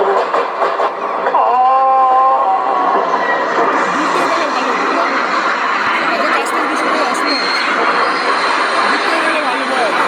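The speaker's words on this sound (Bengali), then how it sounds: "ওই ট্রেনটা দেখাই গেল না" A train rumbles past with a sustained roar and brief squealing wheels, loud and close, while voices talk over it.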